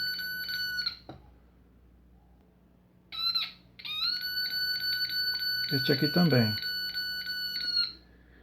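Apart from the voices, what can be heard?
short-circuit component identifier beeping on circuit board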